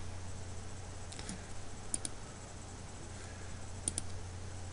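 Computer mouse clicking while working through a Google Classroom page: a few faint, scattered clicks, some in quick pairs, over a low steady electrical hum in a quiet room.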